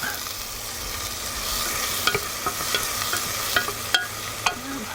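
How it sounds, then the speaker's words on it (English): Butter sizzling with onions in a frying pan, a steady close hiss with a few sharp clinks of stirring partway through and no voices. "in with the butter just to make the onions a bit more decadent"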